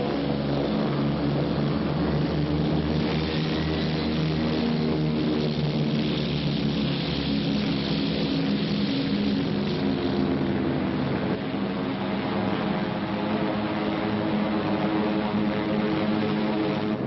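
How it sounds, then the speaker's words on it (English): Japanese WWII bomber aircraft with propeller engines, a steady droning roar of multiple piston engines that swells slightly and holds throughout, loud and continuous without speech. "they would send their bombers to blast it from the face of the earth"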